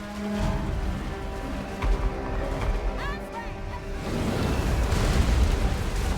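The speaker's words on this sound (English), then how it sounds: "There's lots of Hellstorm rocket battery fire hitting our melee block here" Hellstorm rocket battery salvos striking a melee block in Total War: Warhammer, rumbling explosions and bursts under battle din that build to a heavier, continuous barrage toward the end, with a voice talking over it.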